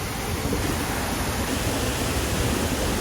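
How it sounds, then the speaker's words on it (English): Rushing water from the Antoine River driving an overshot water wheel at a distillery in Grenada, a steady loud broadband roar and splash with no voices. "So our main source of energy comes from the Antwine River. That's an overshot wheel."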